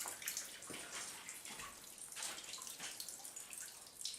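Water pouring and trickling out of an old water heater drained in a house basement, a steady close splashing flow with drips, no talk.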